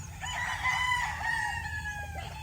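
A local banded breeding rooster crows once in a long, drawn-out call with a falling end, heard at moderate distance over a steady low hum of background noise.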